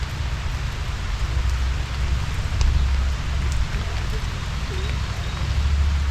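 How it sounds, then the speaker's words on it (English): Heavy rain lashing down during a shore excursion on a Baltic cruise, heard from shelter under a tree as a dense, steady hiss with low rumble and occasional drips. "Now I'm hiding under a tree because it's absolutely lashing it down."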